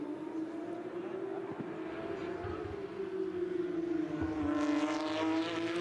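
Porsche Carrera Cup race cars on the Oschersleben pit straight, a steady high engine drone that bends slightly in pitch as the cars pass, with a commentator talking over it.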